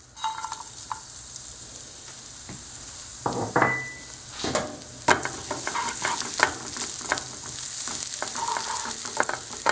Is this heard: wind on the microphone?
no